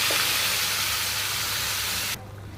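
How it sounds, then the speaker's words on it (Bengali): Spice paste hits hot oil already seasoned with bay leaf, dried chilli and cloves while cooking chicken kosha, giving a loud, continuous sizzling hiss that suddenly drops off to a softer simmer near the end. "এবার মশলাটা ঢেলে দেবো, পেস্ট করে রাখা মশলা।"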